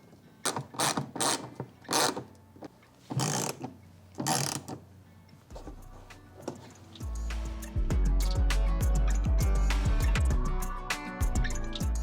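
Screws are driven into a bolt-on carbon fiber mud flap on a Rivian R1T or R1S, first as several separate ratcheting clicks, then a longer run of quick, steady ratchet ticks close by.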